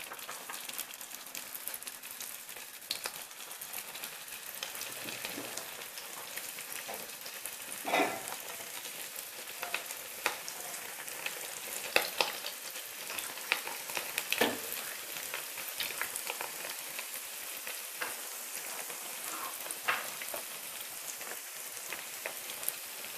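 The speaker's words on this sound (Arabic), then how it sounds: "كنديرو هكايا الزيت في المقله، كنخليوه حتى كيسخن، وعاد كنبداو نحطو فيه لي سيجار." Pastilla-sheet cigars fry in hot oil in a pan with a continuous bright, crackling sizzle, scattered pops and bubbling spurts, close and steady throughout with no talk.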